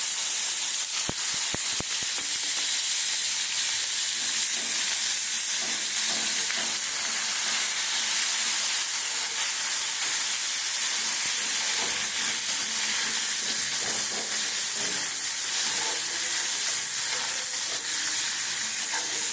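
Sliced onion frying in a pan of butter and refined oil, a loud, continuous sizzle and hiss with a few clicks of stirring near the start and no voices.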